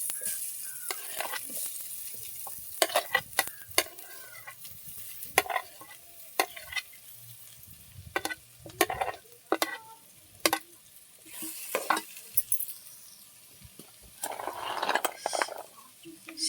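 Crushed ginger, garlic and boiled potato frying in a pan, with a steady sizzle broken by repeated scraping stir strokes and clinks at irregular intervals, fairly close and moderately loud.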